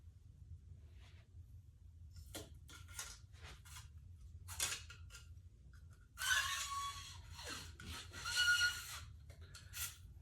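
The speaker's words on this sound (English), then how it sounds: "have a brass brush here. Let me give it a couple passes with that" A brass bore brush passes through a rifle barrel during cleaning, giving a few short scraping rubs and then a longer, louder grinding stroke near the end, all close and quiet with no talk.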